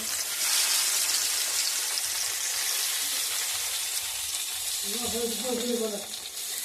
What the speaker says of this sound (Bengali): তো পাতুরিগুলোকে ফ্রাই করে নিচ্ছি